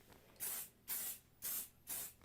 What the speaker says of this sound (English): there are things you can get called grippy dots, or you can get grippy spray